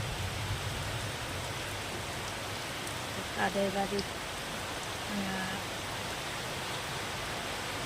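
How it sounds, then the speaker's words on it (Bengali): Steady rain hisses throughout, with a brief spoken phrase partway through. "সব জায়গায় কি বৃষ্টি হচ্ছে"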